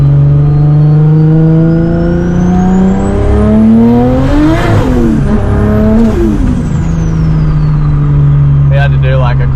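A 500HP RB26-engined Nissan S15 accelerates hard on a mountain road, its engine note climbing through loud, rising revs with gear-change dips, then settling into a steady drone before faint clatter at the end.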